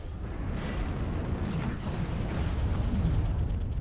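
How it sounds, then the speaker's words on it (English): An artillery strike lands around a Jenner JR7-F mech in MechWarrior Online, bringing a continuous heavy rumble of booming blasts with sharper impacts scattered throughout, loud and close. "I jumped right into an artillery strike"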